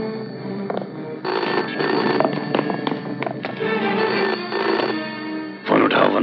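A telephone in a Hindi film rings insistently in repeated electronic bursts, loud and close, with a brief pause and louder ring near the end.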